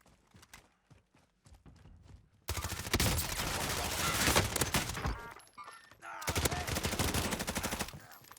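Heavy gunfire from a Call of Duty: Warzone match, starting with sparse scattered shots and then breaking into loud, dense sustained bursts with a brief lull before a second barrage.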